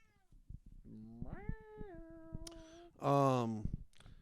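A cat meows several times, long drawn-out cries with rising and falling pitch, the last one louder and more strained, close by with a few faint clicks and knocks around it.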